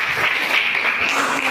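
A classroom audience at a teacher-training session claps for a presenting group, a steady, dense wash of many hands at even loudness throughout the short stretch, with no talking over it.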